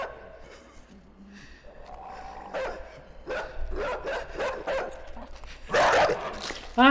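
A dog barks repeatedly inside the dark side-scrolling video game Inside, sharp clustered barks rising to a louder burst near the end, set against low ambient rumble.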